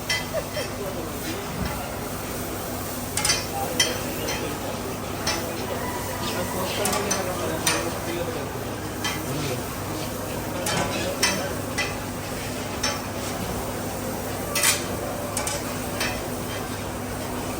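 Noodles being cooked in a pan, with a steady frying sizzle under repeated scraping, stirring and clinking of utensils against cookware, and people talking over it.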